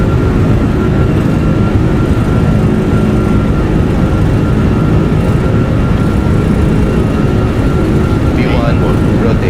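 Airliner engines held at takeoff thrust in a flight simulator make a loud, steady, unbroken roar that fills the whole stretch with little change.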